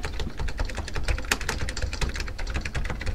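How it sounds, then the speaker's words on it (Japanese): Hard, rapid typing on a computer keyboard during a PC game, a dense run of loud key clacks throughout with no voices. "キーボード壊れるから、そんなに打ったら。"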